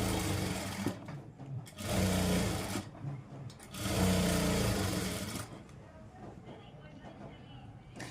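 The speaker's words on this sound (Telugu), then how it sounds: "ఇక్కడి నుంచి ఇక్కడ దాకా స్టిచ్ చేసి ఆపాలి, ఇక్కడి నుంచి ఇక్కడ దాకా స్టిచ్ చేసుకోవాలి." A sewing machine stitches fabric pieces for a bow, running in loud, close bursts of rapid needle rattle with short pauses between them, while someone talks over and between the runs.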